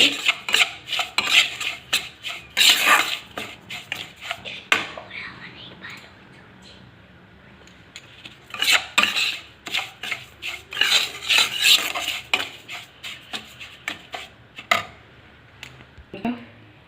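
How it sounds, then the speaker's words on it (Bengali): A spoon scrapes and stirs semolina frying in a pan, with bursts of rasping metal-on-pan strokes separated by quieter stretches and soft low talk in between. "সুজিটা ভেজে নেব হালকা আছে একটু লাল লাল করে ভেজে নেবো"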